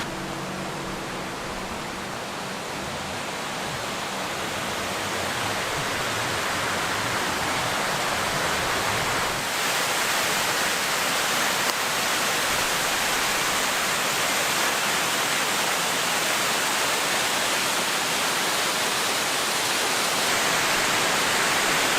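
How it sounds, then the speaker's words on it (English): Steady rushing roar of a waterfall just below a diversion dam, a constant broadband wash that swells slightly louder partway through and continues unbroken, with no voices. "there's a beautiful waterfall"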